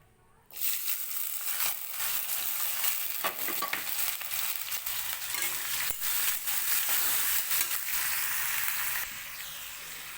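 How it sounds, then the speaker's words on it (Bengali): Onion and potato fry in oil in a wok, a dense, loud sizzle rising abruptly and crackling steadily up close for about ten seconds before easing slightly at the end. "এতে আমি পেঁয়াজ আর আলুটা ভেজে দেবো।"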